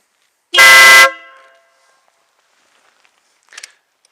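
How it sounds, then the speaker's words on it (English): One loud, brassy blast of about half a second from a Stebel Nautilus air horn fitted to a Kawasaki Concours 14 motorcycle, close up, ringing off briefly before a faint click. "I've got a Stebel horn inside here, the Nautilus"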